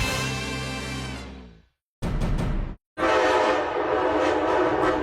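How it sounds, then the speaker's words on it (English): A locomotive train sounds its horn loudly in sustained harmonic blasts, then rumbles past close by with a gap of silence and a short burst between, heavy rail noise filling the clip. "one of those little rolling cube delivery robot things got into a game of chicken with a locomotive train."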